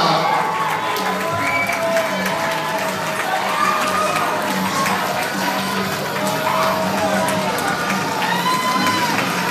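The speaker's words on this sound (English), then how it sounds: "they do this just to hear the applause" A roller derby crowd cheers and applauds loudly and continuously in an indoor arena, with whoops and shouts rising over a steady roar.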